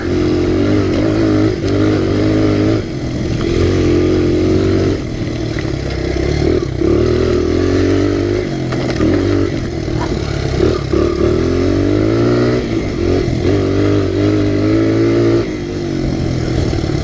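A Honda XR100 pit bike engine revs and putters up and down on a trail ride, close and loud for the whole stretch, with uneven throttle surges and a buzzing single-cylinder note.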